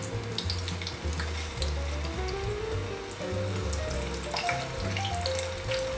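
Stuffed squid sears in olive oil in a pan, a continuous close sizzle running throughout, with low humming tones underneath and no voices.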